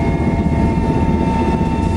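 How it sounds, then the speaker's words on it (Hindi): A water-bucket helicopter flying over a forest fire in the jungles of Uttarakhand, its rotor and engine drone loud, steady and unbroken throughout. "हेलीकॉप्टर को ठीक उस जगह के ऊपर उड़ाया जाता है जहां आग लगी हुई है।"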